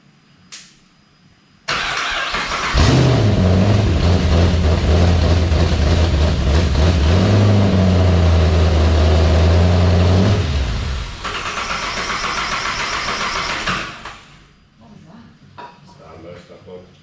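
A twin-turbo engine in a 1959 Chevrolet Apache pickup cranks over, catches and revs loudly with a deep, fluctuating roar for about eight seconds, then drops to a rougher idle before cutting off; voices speak around it.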